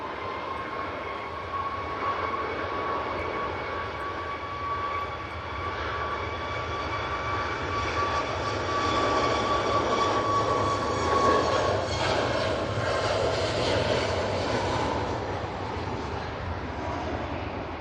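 An airliner bound for Brussels departs Manchester Airport in stormy weather, its jet engines roaring as a steady, strong whine with a tonal hum that swells slightly mid-way before easing, heard from a distance with wind noise.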